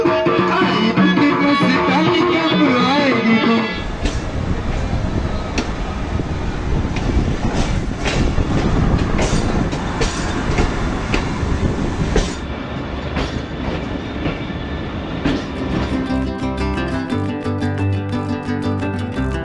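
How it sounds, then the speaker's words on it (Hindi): A train at Hasanabdal railway station, sustained and loud throughout with rolling rail noise and wheel clatter, a shift in tone partway through as the carriages keep moving. "ये हसनबदाल का रेलवे स्टेशन है जी।"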